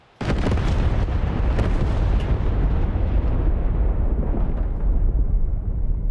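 A heavy explosion of JSOW weapons from an F/A-18 hitting a target in DCS erupts with a sharp onset, followed by a long rumbling roar of blasts and debris that slowly fades.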